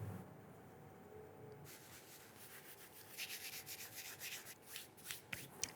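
Greek dried thyme is rubbed between the palms, a soft, faint dry rustling that starts quietly and grows into a series of gentle scraping strokes close up, with no voices.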